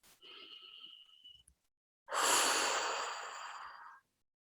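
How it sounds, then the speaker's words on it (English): A slow, deep breath drawn in through the nose, close and quiet, followed after a short pause by a long, louder airy exhale lasting about two seconds, during a guided meditation. "So taking a deep breath in here."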